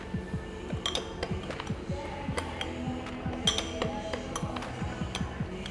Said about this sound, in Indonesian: Oke, kita aduk sampai dia tercampur seperti ini.